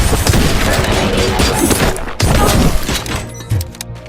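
Dense, sustained gunfire from RoboCop: Rogue City, a loud continuous barrage of overlapping shots and heavy thuds with a brief break about halfway, then a thinning volley at the end.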